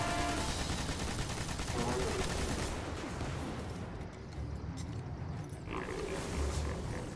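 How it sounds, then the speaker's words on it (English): An arc damage machine gun rattles in the Destiny Nightfall Devil's Lair, firing in sustained rapid bursts with a rough, crackling roar. It stays loud and dense throughout, easing slightly in the middle before building again. "Arc damage machine gun."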